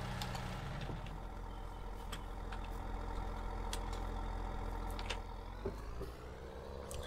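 Steady low engine drone of a tractor in Farming Simulator 19, a quiet, even idle-like hum with faint clicks and small tonal shifts, running alone without speech.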